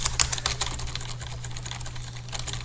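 Rapid keystrokes on a computer keyboard as a paragraph is typed into an MS Word document, a steady close patter of clicks over a low constant hum, with no voices.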